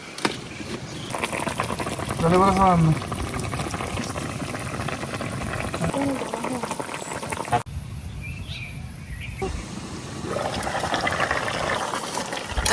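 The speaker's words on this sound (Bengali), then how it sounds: "যে তরকারিতে কিন্তু বলকায় পড়ছে" A pot of white garden eggplant curry coming to a boil gives a continuous bubbling and simmering hiss, with faint birds chirping in the background and a brief drop in level midway.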